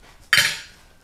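Metal fork clinking once against a plate of home-made stewed meat, a single sharp bright clink close up that rings out and fades quickly.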